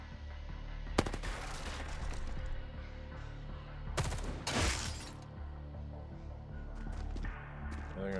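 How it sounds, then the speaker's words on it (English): Gunfire aimed at a tank in the video game Xenonauts 2, heard as a dense rattling burst followed by louder cracking volleys over a continuous low rumble. "they're gonna shoot the hell out of the tank"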